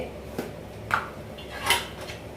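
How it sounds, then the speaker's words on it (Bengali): Metal plate or kitchenware being handled while making milk coconut barfi, giving a few scattered clinks and taps at moderate volume with no talking. "আমি একটা থালা নিয়ে নেব থালাতে"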